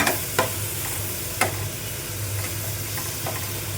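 Fried onion, chilli and chopped tomato stirred in a pan, soft sizzling under a few sharp scrapes of a spoon against the pan, close and fairly quiet.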